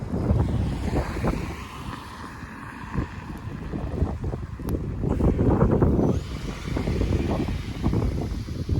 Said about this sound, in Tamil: ஸோ வந்து காற்று அடிக்குது.